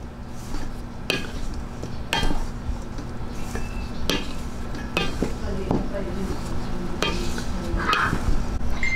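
A bread pudding mixture with baking powder is stirred in a bowl, giving repeated clinks and scrapes of a utensil against the dish, close and fairly loud, with a steady background hum.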